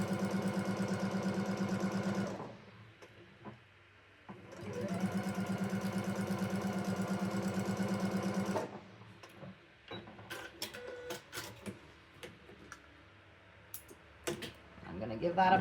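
A sewing machine stitches a quilt block seam in two sustained runs of rapid, even mechanical hum and ticking, close and steady, followed by scattered clicks and handling noises from fabric and the machine.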